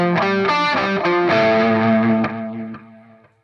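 A distorted electric guitar plays a quick riff of repeated notes in a rolling triplet rhythm, then lets a final chord ring and fade.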